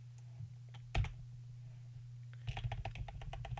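A few isolated computer keyboard key presses, followed by a quick cluster of clicks, faint and close against a steady low hum.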